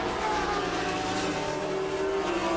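A Peugeot turbo sports car and a Roush-engined Lola race past at Magny-Cours in the 2001 FIA Sportscar Championship, their engines a continuous loud roar with shifting whine as the cars go by.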